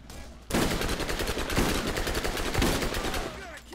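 Rapid video-game gunfire bursts loudly after a brief quiet start, dense repeated shots running for about three seconds with occasional heavier blasts, including shotgun fire.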